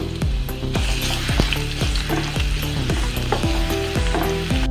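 Garlic frying in two to three tablespoons of cooking oil gives a steady, close sizzle with crackling pops and repeated clicking scrapes of stirring, with no talk.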